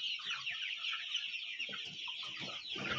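A flock of native country chickens, about 3,500 birds at 45 days old on a poultry farm, clucking and chirping together in a continuous dense chorus, with no voices over it.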